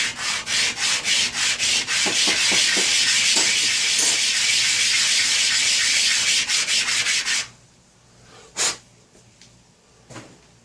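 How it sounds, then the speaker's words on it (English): A Canadian 50 cent coin ring is sanded by hand with 220 grit sandpaper, fast rhythmic scratchy rubbing strokes for about seven seconds, then stopping with a few brief scrapes and handling sounds in the quiet. "What I've got here is some 220 grit sandpaper. I'm going to sand the stress marks out of it."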